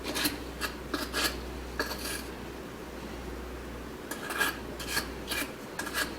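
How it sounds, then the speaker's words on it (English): A wire brush scrubs the splined transmission post of a GE washer in quick, close bursts of scratchy strokes, with quieter rubbing between them. "get a wire brush and clean the splines all around on the transmission post"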